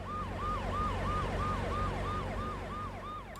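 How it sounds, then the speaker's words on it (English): An ambulance siren in a Soviet apartment video game wails in a fast, regular up-and-down cycle, loud and steady throughout with a low engine rumble beneath and no talking. "Okay, there's some ambulance going by."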